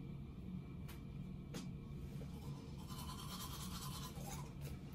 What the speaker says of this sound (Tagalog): Mag-toothbrush muna dito